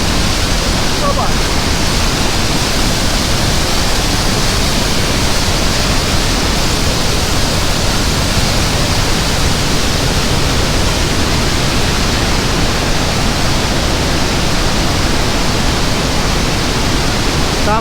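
Water rushing and churning below a mountain path near the Tsoi-Pede crypts in Chechnya, a dense, steady, loud roar like a waterfall filling the whole clip.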